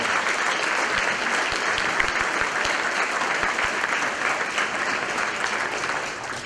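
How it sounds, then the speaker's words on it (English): Sustained applause from a crowd at an awards gala, dense clapping that continues steadily and fades slightly near the end. "Please let's give them a round of applause."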